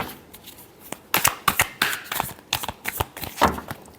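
Tarot cards being shuffled by hand in quick riffling bursts, a series of crisp, close papery snaps and flutters with short pauses between them and no talking.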